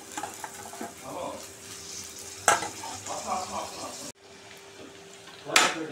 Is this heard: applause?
no